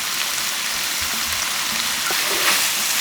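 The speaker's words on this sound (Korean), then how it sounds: "양파가 강불로 볶으셔야 돼요. 살살 익고 있잖아요." Sliced onions and meat stir-fry over high heat in a pan, a dense, even sizzle with soft crackles and occasional stirring scrapes, close and steady throughout.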